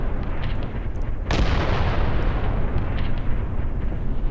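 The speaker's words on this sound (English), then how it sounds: "my artillery is working over the village" Artillery shelling a village in the Graviteam Tactics war game: a sustained low rumble of distant impacts with one sharp nearer blast, no voices.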